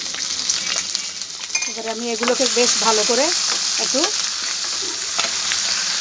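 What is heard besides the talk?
frying spice paste (onion, garlic, ginger, cumin) in ghee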